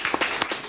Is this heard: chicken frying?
no